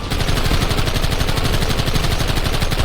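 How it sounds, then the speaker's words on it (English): Dense, rapid gunfire from many weapons at once in the video game Red Dead Redemption, loud and continuous like a sustained volley, with no talk over it. "Fire at will!"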